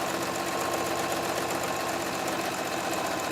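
A sewing machine runs a wide zigzag stitch on a fabric rag rug, a steady, close, continuous mechanical whirr with a fast regular rhythm and no pauses.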